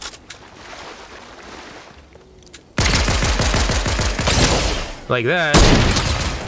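Fortnite gunfire erupts mid-match as a rapid, loud stream of closely spaced shots, after a quieter stretch with a voice talking, then a warbling game tone and another burst of shots.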